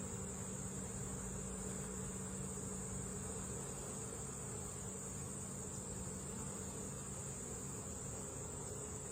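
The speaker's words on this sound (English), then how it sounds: "just a lot of bees, some drones" A packed honeybee hive with drones gives off a steady, dense buzzing hum that stays even and close throughout, with no voices.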